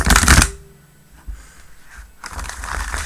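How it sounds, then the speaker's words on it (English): A deck of tarot cards being shuffled up close: a loud, crisp riffle burst at the start, a quieter stretch of soft handling, then a second sustained rattling shuffle, with no talking. "Lovely shuffle."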